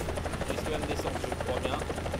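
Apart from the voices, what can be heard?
helicopter flying in video game War Thunder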